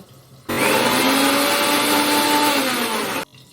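An electric mixer grinder whirs loudly for about three seconds grinding spice paste, a steady high-pitched grinding drone that starts and stops abruptly.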